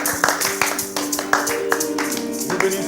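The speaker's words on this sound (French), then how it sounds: "Applaudissons très fort pour notre mois." A church congregation claps their hands together in a quick, fairly regular rhythm of sharp, mid-loud claps, some slightly uneven, sounding from a close room with no talk over them.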